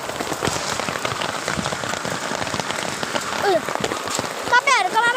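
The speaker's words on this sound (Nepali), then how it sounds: "यहाँ पनि झरिरहन्छ असिना। हेर्न सक्नुहुन्छ पानी कति धेरै परिरहन्छ।" Heavy rain with hail pelting down outdoors during a storm, a dense, steady patter and clatter of drops on surfaces, with a few bright bird chirps cutting through near the end.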